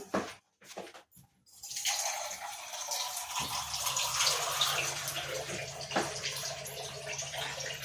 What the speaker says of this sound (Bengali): তারপরে এটাতে আমি দেব জল।